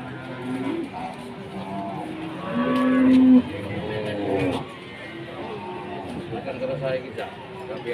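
Cattle at the morning Pasar Pon livestock market in Blora, with low lowing calls rising repeatedly over a noisy crowd; people talk throughout and one louder moo stands out near the middle.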